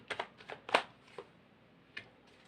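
Tarot cards are shuffled by hand up close, a quiet run of soft riffling flicks and slaps in quick bursts, then a pause and a final faint flick.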